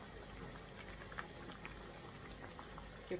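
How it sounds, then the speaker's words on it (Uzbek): Fruit compote bubbles at a steady boil in a pot, a continuous soft simmering churn with occasional louder pops, close and alone with no talk. "Bir 5-10 minut kaynatamiz buni."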